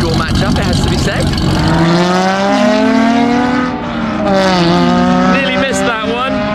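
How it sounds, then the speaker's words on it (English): A Mercedes 300 SL race car drag racing an Audi R8 Spider, loud engines revving and climbing through gears with rising and falling pitch, close and dominant, with a voice briefly audible early on. "Now, we've got the 300 SL race car. Let's listen to that."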